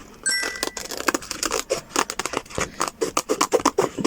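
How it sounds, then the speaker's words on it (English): Scissors snip through paper while cutting a peacock image out of a craft sheet: a quick series of close, crisp cuts and rustles with an uneven rhythm, and no talking. "we're going to cut the peacock out as well, and obviously to do that I've got to cut around"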